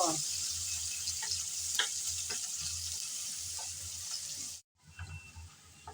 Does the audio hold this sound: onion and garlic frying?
yes